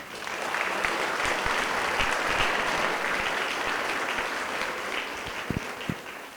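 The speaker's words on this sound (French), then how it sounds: "Et je vous demande de l'applaudir bien fort." Steady, fairly distant applause from an audience at a prestigious evening event at the Château de Deulin, a few seconds of even clapping that thins out toward the end, with no talking.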